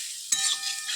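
Young jackfruit pieces drop into hot oil for a prawn dish and burst into a sudden, close sizzle. The steady, bright hiss carries on after the initial splash.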